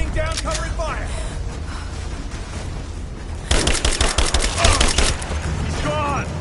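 Sustained covering gunfire in the video game Rise of the Tomb Raider, a dense rattle of rapid shots that grows louder and busier partway through, mixed with shouting voices.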